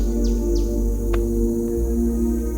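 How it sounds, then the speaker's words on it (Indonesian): A spider hunter bird calls in a forest with two or three quick, high descending chirps over a steady hum of insects and background noise. "ini burung spider hunter"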